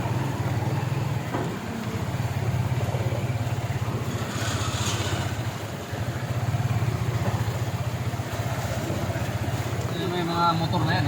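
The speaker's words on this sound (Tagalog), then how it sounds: "May mga motor na yan, no?" Motorcycles ride across a flooded bridge in heavy rain, a steady loud rumble of engines and rushing water running unbroken throughout, with muffled voices mixed in.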